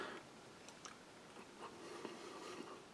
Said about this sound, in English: So let's have a little taste of one of these tortillas.